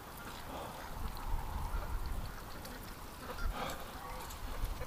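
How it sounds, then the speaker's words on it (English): Geese honk down in a winter swamp, a faint, scattered chorus of calls carried over rain-like background noise. "the geese honking are above us and he doesn't realize they're down in the swamp"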